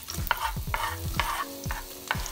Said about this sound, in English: Once that's done, add in your onions